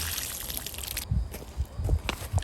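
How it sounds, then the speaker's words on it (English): Water trickles and splashes from close by as a garden tomato plant grown from seed is watered, short irregular drips and pours for a couple of seconds. "watering to the tomato plant after growing"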